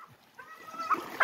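Foxhound hunting dogs splash through water during a paca hunt, giving faint, distant whines and bay-like cries in short bursts that grow louder toward the end.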